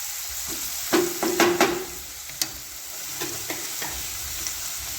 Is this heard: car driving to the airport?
no